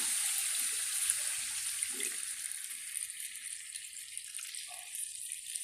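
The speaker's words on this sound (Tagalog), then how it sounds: "Lagyan na natin ng tubig." Water pours steadily into a pot of meat to make broth for Filipino valenciana, a continuous hissing splash close by with no talking.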